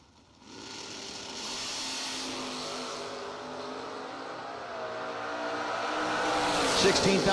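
A pair of drag race cars, one of them a 1967 Camaro, rumbles and revs at a door slammer drag race, a steady engine drone that swells louder toward the end, with an announcer's voice over it.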